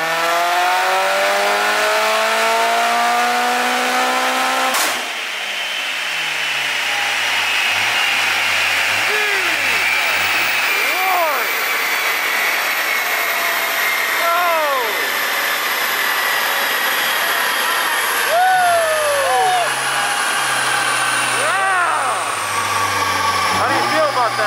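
An 809 hp all-wheel-drive Mazdaspeed 6 makes a dyno run at a performance shop in Englewood, Colorado. The engine roars loudly and steadily, its pitch climbing through each pull, with several sharp shifts and repeated revving surges.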